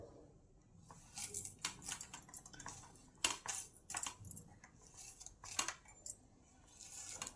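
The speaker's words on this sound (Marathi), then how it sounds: "ही कारले सर्व अशी चिरून घेऊ हे असे तुकडे आपण कारल्याचे असे तुकडे करून घ्यायचे" A knife cuts bitter gourd into pieces on a board, giving irregular crisp clicks and taps, quiet and close, with brief pauses between cuts.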